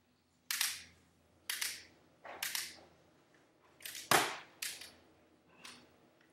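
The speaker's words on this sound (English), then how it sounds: "now I'll do a shooting test. I'll shoot at those 4 dominoes." A Lego semi-auto Glock 17 toy gun fires at dominoes in about seven sharp, snappy clicks at uneven intervals. Each shot is close and crisp with a quick decay into quiet.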